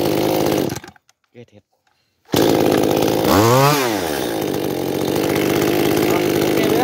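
A Maruyama 310 chainsaw engine idles loudly, cuts out briefly, then restarts and revs up and down in one sweeping rise and fall before settling into a steady high drone, with someone speaking over it.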